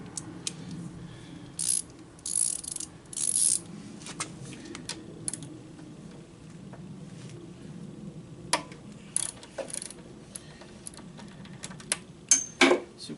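Ratchet turning a 6-point socket on a Honda generator, a few short bursts of clicking pawl sounds spaced through the clip with quiet handling and tool noises in between.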